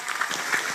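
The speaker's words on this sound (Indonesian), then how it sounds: "tepuk tangan." A brief wash of crowd applause at an Islamic religious gathering, soft and somewhat distant, a blurred, continuous patter of many hands lasting under a second.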